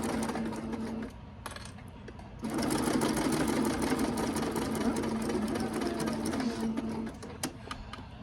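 Sewing machine stitching an extra-large self-binding potholder, a close rapid whir that pauses briefly, then resumes steadily with a light rattling rhythm.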